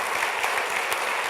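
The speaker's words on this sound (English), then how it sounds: "So how about another round of applause?" A brief burst of audience applause at a laboratory state-of-the-lab event: dense, even clapping from many hands.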